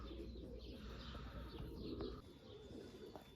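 Tumbler pigeons kept as breeding stock coo softly and steadily, with a few faint chirps over a constant low hum in the loft.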